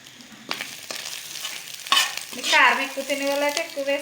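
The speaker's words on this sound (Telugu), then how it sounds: "పసుపు కారం వేసుకుందాం ఇది ఫ్రై అయింది కదా కొంచెం కారం వేసుకుంటున్నాను" Turmeric and chili powder fry in a pan with stirring, giving soft sizzling and scraping clatter in irregular bursts, fairly close and moderately loud.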